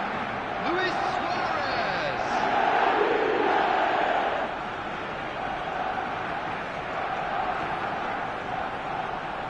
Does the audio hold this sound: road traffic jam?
no